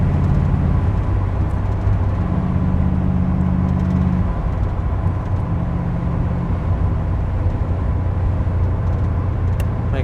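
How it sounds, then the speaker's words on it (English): A 1979 Chevrolet Corvette cruises and slows under braking, a steady low engine and road drone that drops in pitch as speed eases, with no talking. "Brakes are stopping us nice and slow."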